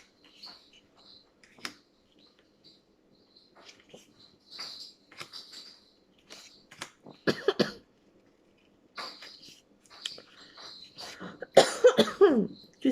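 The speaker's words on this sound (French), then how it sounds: "Excusez-moi, mais je tousse." Several dry coughs and throat clearings from a person nearby, scattered in short bursts amid quiet rustling, growing louder toward the end.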